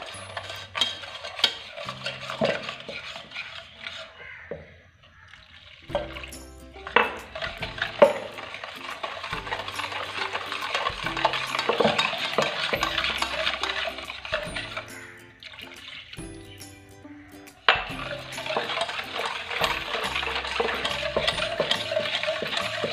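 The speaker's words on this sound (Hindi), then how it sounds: "ये सारे जो दूध चीनी जो है इसमें हम मिक्स करते जाएंगे आहिस्ता आहिस्ता" Milk and sugar being slowly mixed in a bowl for a white chocolate ganache, heard as rhythmic clinking and scraping of a utensil against the bowl with liquid swishing, close, continuing in bursts with short pauses, no voices.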